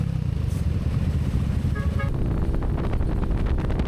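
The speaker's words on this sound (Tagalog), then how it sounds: "Nakangas ng motor. Aerox B3" A Yamaha Aerox scooter fitted with a Racing Boy JBT exhaust drones along under heavy wind buffeting, its engine note rising slightly near the end, close and steady with no talking.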